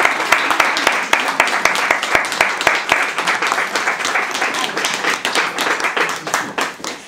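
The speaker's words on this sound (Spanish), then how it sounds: "Gracias por los aplausos" A live audience applauds a magician on stage. Dense hand-clapping, with sharp individual claps at the start, runs the full length and tapers slightly toward the end.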